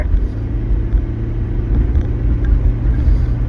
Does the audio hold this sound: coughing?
no